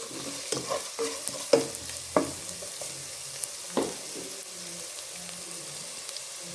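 Garlic stirred and tempered in hot oil for a pipe fish dish gives a steady low sizzle, broken by a spoon's sharp scrapes and clinks against the pan in an irregular rhythm, close and fairly loud, with no voices.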